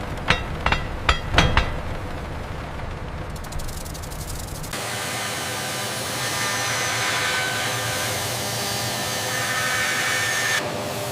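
Hammer blows ring out in a quick cluster of sharp metallic strikes while forging an iron wind turbine hub, followed by a loud, steady hiss like steam or spray that continues to the end.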